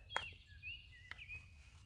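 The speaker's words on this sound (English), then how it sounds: "Yep, a song sparrow in here" A song sparrow sings outdoors at an arboretum: a sharp note followed by thin whistled trills, moderately distant, over a low steady background rumble.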